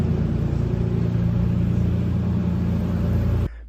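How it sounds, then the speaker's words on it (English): A 1JZ engine swapped into a Nissan S14 Kouki runs at a steady, loud idle, a dense low rumble with an even throb, close by, cutting off abruptly near the end. "But car's running."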